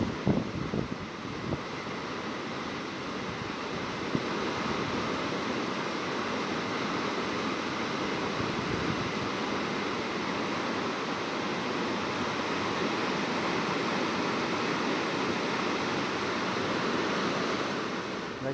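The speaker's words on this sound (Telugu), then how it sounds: "కన్నుల పండుగ కనిపిస్తున్న కుంటాల వాటర్ ఫాల్స్, మరోవైపు గుండాల వాటర్ ఫాల్స్" Kuntala waterfall in Adilabad, swollen and in flood after heavy rains, gives a steady, loud broadband roar of rushing water that holds unbroken throughout, with no voices.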